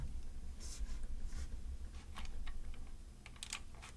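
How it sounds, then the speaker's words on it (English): Typing on a computer keyboard while entering a word into a spreadsheet cell, a few soft, faint keystrokes over a steady low hum, with no talking. "I'm going to type the word blue."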